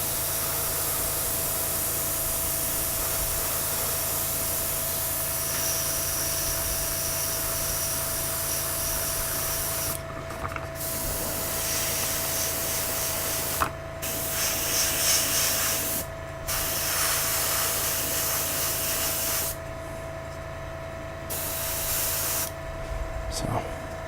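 Vallejo primer sprays steadily from an airbrush onto a BT-7 tank model, a continuous airy hiss with brief pauses between bursts and a faint steady hum underneath.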